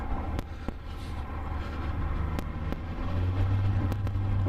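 A 2008 Suzuki GSF1250S Bandit motorcycle engine hums steadily while riding, a low droning rumble with wind buffeting, the engine note deepening and growing slightly louder toward the end.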